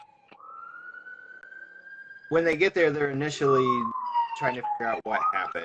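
Emergency vehicle sirens pass by a house, a rising wail followed by loud, wavering siren tones while a person keeps talking over them.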